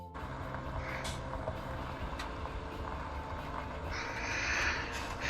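A truck is driven down the middle of an empty road in Farming Simulator 17 on the Sosnovka map, its steady engine drone running throughout with a few short beeps and a brief hiss near the end.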